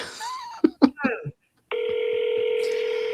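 A phone dials a senator's office with a short burst of tones, then a steady ringback tone runs continuously, following a few words of speech at the start.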